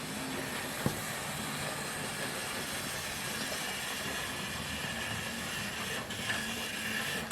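A Hornby GWR 2800 model freight locomotive, the tender-driven version, runs along its track with a steady, faint motor whir and rolling rattle, broken by a couple of small clicks.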